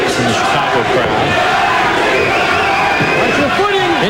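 Dense, loud roar of a Chicago boxing crowd chanting for Rocky Martinez during his fight with Paul Spadafora, sustained voices rising and falling throughout.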